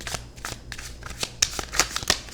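Tarot cards are shuffled by hand in a quick run of crisp riffles and flicks, close and fairly loud, with soft low background hum.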